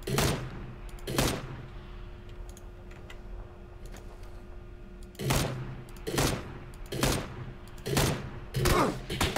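Sharp video game gunshots in PUBG, single loud cracks spaced irregularly, two early then a cluster of five or so in the last four seconds, over quiet background.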